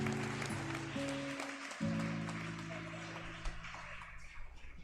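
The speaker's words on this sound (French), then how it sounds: "Je vous prie d'applaudir tout le monde." A congregation at Sunday Mass during Lent claps together, a soft, distant patter of applause over sustained tones and background hum, slowly thinning out.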